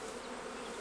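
Honey bees buzzing close around hive frames, a brief steady droning hum with no talking.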